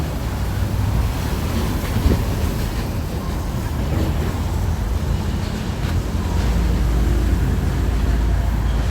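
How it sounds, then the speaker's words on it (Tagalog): Strong wind rushes and rumbles steadily across the microphone during a DJI Mini 3 drone takeoff under overcast skies, a dense continuous roar with slight gusts, no voices. "Lakas nga ng hangin eh."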